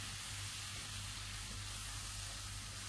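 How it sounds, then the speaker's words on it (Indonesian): Ground spice paste sautéing in hot cooking oil for Lamongan-style tahu campur, a faint, steady sizzling hiss heard alone throughout. "Panaskan minyak goreng. Kita tumis dulu bumbu yang udah dihaluskan tadi."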